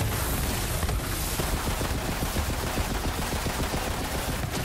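Dense, continuous gunfire from the video game Borderlands 3, rapid automatic bursts with booming impacts, loud and unbroken throughout.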